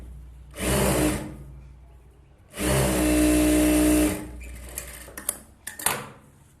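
A sewing machine stitching fabric lining, running in two bursts of steady whirring separated by a pause, followed by a few sharp clicks and handling knocks.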